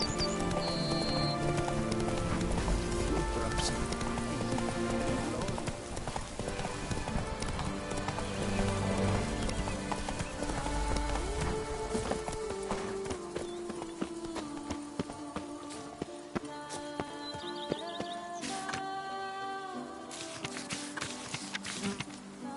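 Video game horse Roach trotting, rhythmic clip-clop hoofbeats that carry steadily throughout, mixed with busy ambient game sound, occasional whinny-like tones and short bright effects.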